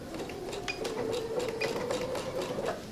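Sewing machine stitching a French seam on pajama bottoms, starting at the waist: a steady, moderately quiet mechanical hum with a fast rhythmic needle patter running throughout, with no talking.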